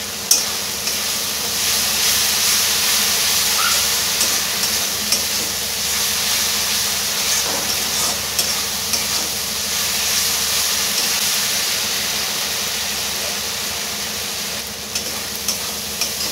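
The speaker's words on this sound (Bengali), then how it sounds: "কিছু ধনেপাতা এখন দিয়ে মশলার সাথে ভেজে নেবো" Coriander leaves fry with spice masala in oil for a sea fish curry, a loud continuous sizzle with soft stirring scrapes, no speech.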